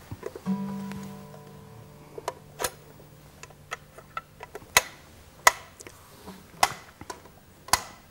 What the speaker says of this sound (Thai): เรามาลองปรับเมทานอมอันแรกดูนะครับ อันนี้ก็จะช้ามาก ช้ามากนะครับ